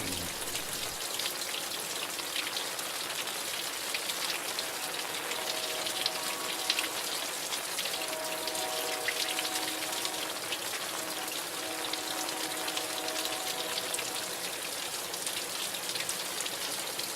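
Steady rain falling outdoors makes a dense, continuous hiss of drops landing on surfaces nearby, even in level throughout with no voices.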